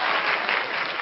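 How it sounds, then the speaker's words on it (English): Prerecorded applause played over a live online broadcast of a national trials round, a steady wash of clapping filling the whole moment without talk. "I had to play the applause."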